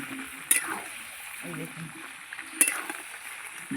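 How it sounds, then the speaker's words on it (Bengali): Meat being stirred while it fries in a pan, with a soft, steady sizzle and two brief scraping strokes of the spoon against the pan, close and fairly quiet. "এবার একটু নাড়িয়ে দেবো মাংসটার"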